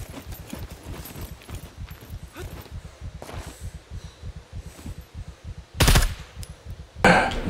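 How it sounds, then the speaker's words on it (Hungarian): Gunfire in the survival video game SCUM: two sharp, loud shots spaced about a second apart, standing out over a steady rhythm of footsteps or hoofbeat-like thumps. "Ne lövöldözzél, bazd meg!"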